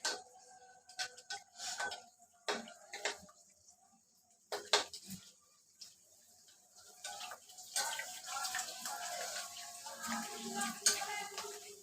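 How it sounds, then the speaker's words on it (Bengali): Fuchka puris bubbling and sizzling in hot oil, soft irregular crackles and light clinks of a utensil, close but quiet, growing into a denser steady sizzle toward the end. "একটু লাল লাল করে ভেজে নেব।"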